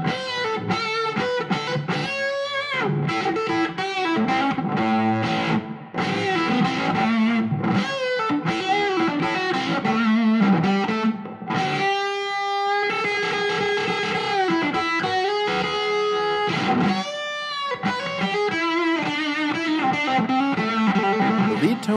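A distorted electric guitar played through an octave fuzz pedal plays chords with a gritty, broken-up, synth-like ring-modulation fuzz tone, sustained and loud throughout with brief pauses between phrases.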